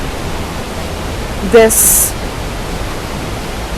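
A gorgeous waterfall near a restaurant in Valle de Bravo, Mexico, roars as a steady, broad rush of falling water, loud and constant, with a brief spoken word over it.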